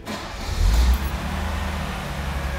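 A 1967 Mercedes-Benz 250SE Cabriolet engine cranks and catches, with a brief low surge, then settles into a steady, smooth, close idle.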